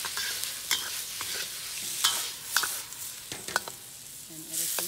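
Beef and broccoli ingredients stir-fried in a wok, with a steady sizzle broken by scattered scraping and clattering strokes of a utensil against the metal.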